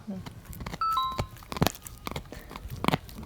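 Soft crunching and gnawing of a dog chewing a plush toy, with occasional squeaky tones and a person talking in between.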